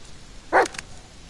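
A single short dog bark from the dog companion in the horror video game Blair Witch, close and clear against a quiet background, with nothing else around it.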